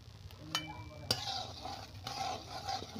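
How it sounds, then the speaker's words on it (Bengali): Potatoes fry in mustard oil with turmeric in a kadai, giving a soft, steady sizzle broken by a few sharp clinks and scrapes of a stirring utensil against the pan. "আলুগুলো এবার আমি ভেজে নেব"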